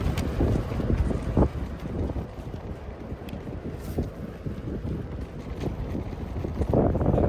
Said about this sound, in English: It was very windy on the beach.